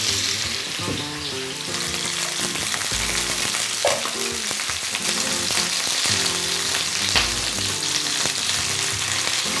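Loud, steady sizzling of chicken frying in a hot pan for a tomato stew, a continuous crackling hiss with occasional sharper pops, close up.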